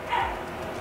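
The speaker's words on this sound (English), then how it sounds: "That's KODA barking downstairs." A single short dog bark, muffled and somewhat distant, as if from another floor.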